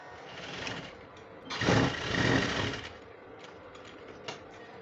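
A sewing machine stitching a trouser pocket, with a faint motor hum that swells into a louder whirring run of stitching in the middle, then drops back to quiet mechanical ticks.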